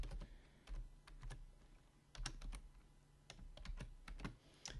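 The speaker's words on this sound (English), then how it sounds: "And then you're just going to type out this." Keys tap on a computer keyboard in quick irregular bursts, close and clear, with brief pauses between clusters of keystrokes and no talking.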